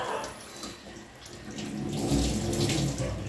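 Water runs steadily from a tap into a sink during toothbrushing, a close, continuous splashing stream with no voices over it.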